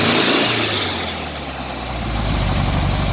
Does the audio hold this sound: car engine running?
yes